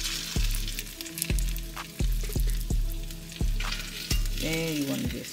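Meat frying and sizzling in a pot for birria tacos alongside mozzarella and other cheese, a steady loud sizzle broken by regular sharp knocks and scraping from flipping and smashing, with no talk.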